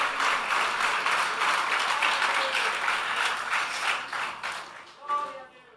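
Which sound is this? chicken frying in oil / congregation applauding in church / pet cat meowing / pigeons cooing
congregation applauding in church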